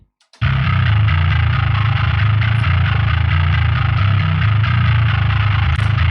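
Heavily distorted bass guitar, processed with a Joel Wanasek Bus Glue Bass plugin for a metal mix, plays loud and continuous with a thick low end and gritty top, alone.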